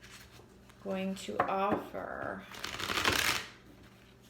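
Tarot cards shuffled by hand during a love reading, a riffling burst that builds and fades over a couple of seconds, heard under and after a person's speaking voice.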